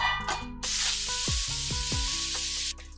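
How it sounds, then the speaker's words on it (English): Lamb meat drops into a hot pressure cooker with a sudden loud sizzle and hiss that holds steady for a couple of seconds, then cuts off, with brief clunks before and during. "Let's add all the lamb meat."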